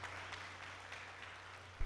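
A crowd at a prayer group meeting claps together in sustained applause, steady and moderately near, with one sharp bump at the end.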